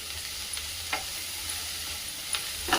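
Spring onions frying with curry leaves in a pan, a steady close sizzle with a few soft scrapes of a spoon stirring through.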